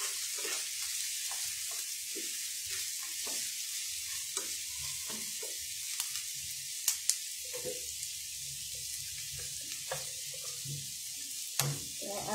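Dried loitta fish fries in mustard oil with a soft, steady sizzle, broken by frequent light stirring scrapes and a couple of sharp clicks, fairly quiet throughout.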